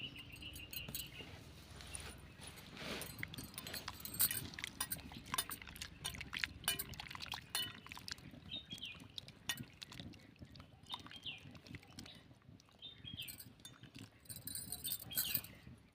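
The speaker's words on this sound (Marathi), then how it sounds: "सर्व पेरू आपण धुवून घेऊया" Water splashing and dripping as guavas are rinsed in a bowl, continuous faint sloshing with small drips, close and quiet.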